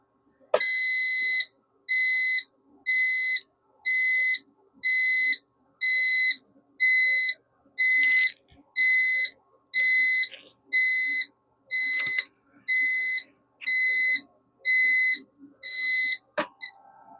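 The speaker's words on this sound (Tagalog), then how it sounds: "magte-trigger yung alarm" An industrial-sensor earthquake detector alarm sounds a steady series of about fourteen evenly spaced, shrill electronic beeps, loud and close, with a few faint clicks between them.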